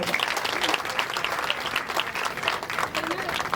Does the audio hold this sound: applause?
yes